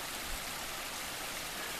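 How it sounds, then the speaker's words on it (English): Pocosin Creek in the Shenandoah mountains of Virginia runs as a steady, close rushing wash of water over rocks, a constant broadband roar with no voices. "Here's Pocosin Creek right here."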